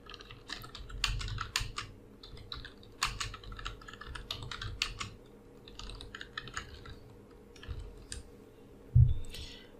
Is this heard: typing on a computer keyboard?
yes